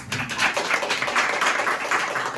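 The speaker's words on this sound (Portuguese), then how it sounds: "Uma salva de palmas para ele." A round of applause for a seminarian at a church gathering: a small crowd claps steadily and fairly close, a dense patter of hands with no voices over it.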